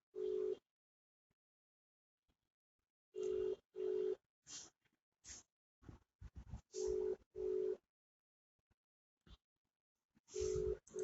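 Ringback tone of an outgoing video call, short repeated electronic beeps in pairs separated by silence, with a few soft clicks and bumps between them.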